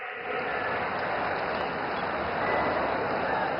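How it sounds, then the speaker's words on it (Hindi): A large crowd applauding farmers at an outdoor political rally, a dense, steady roar of clapping that stays loud and continuous throughout. "मेरे किसान भाई बहनों के लिए जोरदार ताली बजाइए"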